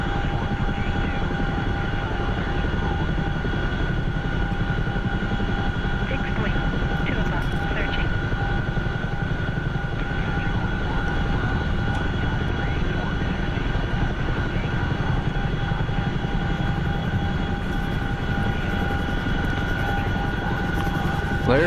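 Steady, loud aircraft drone with constant tonal engine hum over broadband rotor or propeller noise, heard from inside the aircraft while flying across the channel; a voice talks faintly at times.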